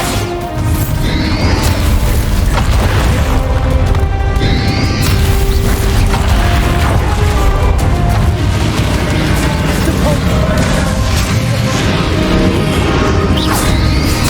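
The Bombarda spell explodes during a battle in the Hogwarts Legacy video game: loud, dense crashing and booming blasts with whooshes and mechanical clatter, sustained without a break.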